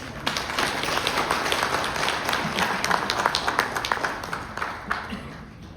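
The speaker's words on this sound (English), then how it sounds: "may I have a huge round of applause for her" Audience applause at an embassy export and investment promotion event fills the room with dense, continuous clapping, fairly loud and sustained.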